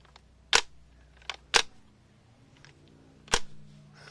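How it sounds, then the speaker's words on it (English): Plastic clicks from a Lego toy gun as its magazine is released and removed, three sharp snaps with a few softer ticks between them in a quiet room. "We can take the magazine out."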